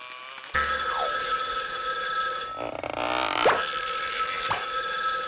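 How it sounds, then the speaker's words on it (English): A telephone rings with a continuous electronic trilling tone, loud and close, briefly dipping midway before resuming, with no voices over it. "That's my phone."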